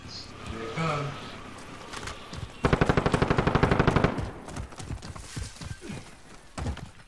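Gunfire in the video game Call of Duty: Warzone: a fast burst of automatic fire roughly a second and a half long, loud and close, with scattered single shots and thumps around it and game chatter heard.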